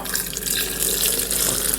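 Water pours steadily from a tap into a blender vessel holding bananas, a loud continuous splashing rush.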